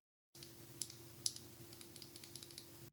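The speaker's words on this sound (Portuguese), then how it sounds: "Agora falando sobre o som do teclado, né? O som dele é gostoso" Rapid typing on an IROK ND63 Pro mechanical keyboard, a close, quiet stream of crisp key clicks with a few sharper, louder presses, over a faint steady electrical hum, with no voice present.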